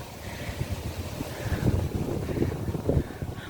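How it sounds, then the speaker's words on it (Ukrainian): Gusty wind buffets the microphone in low rumbling bursts, rising and falling over a few seconds with no voices. "Вітер, вітер, вітер,"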